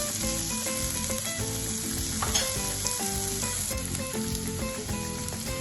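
Carrots frying in butter with a teaspoon of sugar in a frying pan, giving a steady, loud sizzle throughout, with clinks and scrapes of stirring under music.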